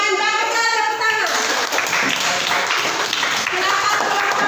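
Classroom applause for a student group after a math presentation: a voice speaks briefly, then a dense, steady burst of many hands clapping fills the rest at moderate loudness.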